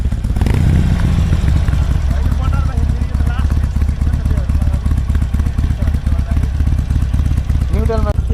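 A Harley-Davidson motorcycle engine runs loud and close throughout, with a deep, steady rumbling throb while people talk nearby.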